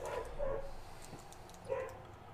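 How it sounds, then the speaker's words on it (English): A dog barks out in the street, giving a couple of short, distant-sounding barks with a brief whimpering tone, separated by a pause and set against quiet background noise. "There's a dog barking in the street and Merlin's barking in the house."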